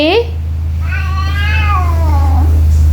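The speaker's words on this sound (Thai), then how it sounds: "ดูแมวเป้า" A cat meows indoors at close range: a short meow, then a longer drawn-out, wavering one, over a steady low hum.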